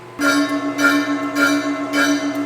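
A loud, sustained metallic ringing tone with a pulsing, rhythmic throb roughly every half second, like a struck bell resonating without stopping, from a flat belt pulley workpiece vibrating on a lathe.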